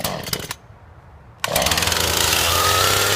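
A Husqvarna 435 chainsaw cuts out after a sputtering start, falls briefly quiet, then fires and runs with a loud, steady, high-revving buzz close by.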